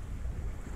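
Steady wind rushing over a sailboat at sea on the Baltic, a continuous low roar and buffeting at moderate level with no voices.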